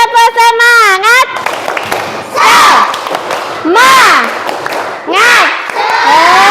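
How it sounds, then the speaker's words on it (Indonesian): A classroom of children shouts the rhythmic 'tepuk semangat' clap chant in loud bursts of unison voices, with faint claps between the calls. "Tepuk semangat."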